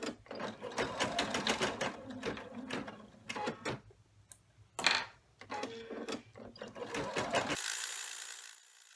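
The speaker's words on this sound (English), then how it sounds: "now to take it back to the machine, and I am going to run a stipple stitch" Sewing machine running a stipple stitch across a triangle double-flap coin pouch, heard as bursts of rapid mechanical clicking that stop and restart, close and fairly loud, with a steadier run near the end.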